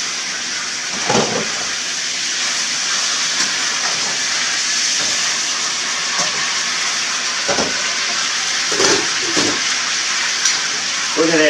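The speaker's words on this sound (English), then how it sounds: "Look at that sizzling sound." Food sizzling on an outdoor cooker or grill as carrots and a roast are cooked, a steady broadband hiss with occasional louder pops and crackles, close and continuous, with no talking.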